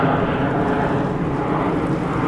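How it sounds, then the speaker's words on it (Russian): A steady, low roar of an airplane passing overhead in Miami, continuous and fairly loud, with no speech. "Здесь всегда пролетают самолеты один за другим."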